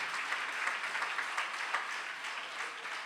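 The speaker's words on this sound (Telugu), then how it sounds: "చప్పట్లు కొట్టండి ప్రభువుకి." A church congregation claps together during a sermon, producing a continuous, fairly faint wash of mixed applause from a crowd at some distance, with no clear voices.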